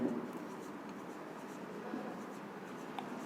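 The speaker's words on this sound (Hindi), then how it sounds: "यहाँ लिख देता हूँ" Marker or chalk scratching across a classroom board during a Hindi-language physics lesson on vector and scalar quantities, a steady faint scraping that runs throughout with no clear speech over it.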